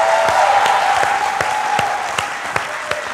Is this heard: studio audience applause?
yes